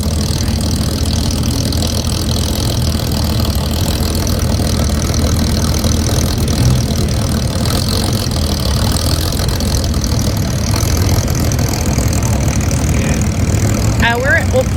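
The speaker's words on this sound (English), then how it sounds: "Look at that thing coming through. The old Lotus." An old Lotus car engine rumbling steadily as it drives slowly through a busy car show at Auckland Showgrounds, a continuous mid-loud engine drone beneath crowd chatter and ambient noise.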